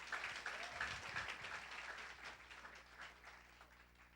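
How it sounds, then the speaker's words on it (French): A congregation at a church gathering applauds to acclaim Jesus, a faint, distant wash of clapping that fades over a few seconds. "Acclame Jésus de Nazareth."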